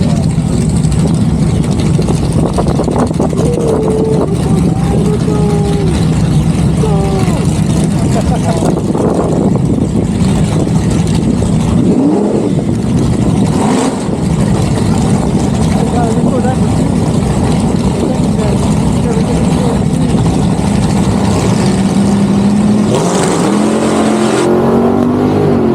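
A 700-horsepower LS-swapped car engine roars loudly and continuously, revving up and accelerating hard, with voices faintly mixed in beneath it.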